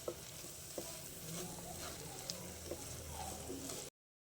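Shrimp biryani mixture is stirred in a pan, with soft scraping strokes and faint sizzling under a few sharp clicks of the utensil, fairly quiet and steady, with no talking.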